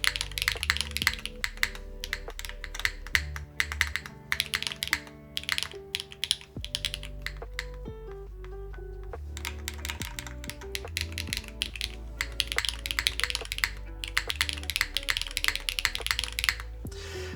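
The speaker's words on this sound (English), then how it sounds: "So when I'm typing" Keyboard typing during a DNworks 02 build stream, steady rapid key clatter running throughout over a loud background of music.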